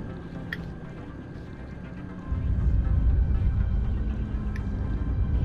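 Submarine moving underwater in Grand Theft Auto V, a dull, steady low rumble of churning water that swells louder halfway through and then holds as a continuous muffled drone.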